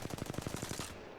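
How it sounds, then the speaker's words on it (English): Rapid burst of automatic gunfire from an Apex Legends weapon firing at its normal rate without an ammo receiver, about a dozen evenly spaced shots over under a second, close and loud, then cutting off. "So here's the fire rate normally without ammo receiver."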